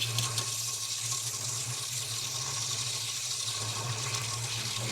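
Water runs steadily throughout, a continuous broadband rush with a low hum beneath, fairly loud and uninterrupted, during a wash on a Holden HK.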